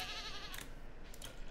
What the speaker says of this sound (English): my goats had babies.